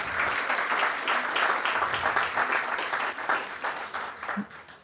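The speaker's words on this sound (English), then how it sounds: "Another round of applause for Mr. Mvalo." Sustained applause from an audience at a corporate identity launch programme, steady and dense throughout before tapering near the end.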